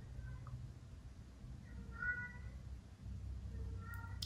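A house cat meows softly a few times indoors, with short, faint calls scattered over a low, steady background hum.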